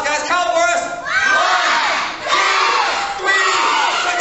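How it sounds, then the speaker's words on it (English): A loud crowd of children and adults at an outdoor summer juggling show cheers, whoops and shouts continuously, with a brief dip in the middle before the roar swells again. "give Ben and all my volunteers a big round of applause"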